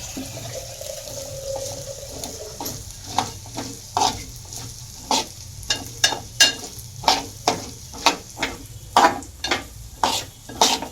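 Rice is sautéed in a pan before being cooked for kheer: a spoon scrapes and stirs in a regular series of sharp, close strokes over a low background sizzle, with the rhythm quickening toward the end.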